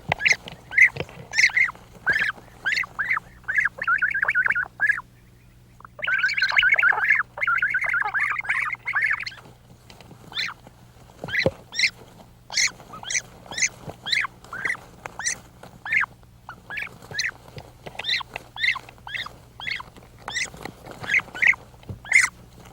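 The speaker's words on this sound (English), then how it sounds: "Sometimes the family squabbles are so fierce that the chicks don't even notice the arrival of their next meal." Bird chicks squabble in a nest along the Jordan River, giving a dense run of sharp, high chirps and squeals in close bursts, with a brief pause near the start and a low steady hum underneath.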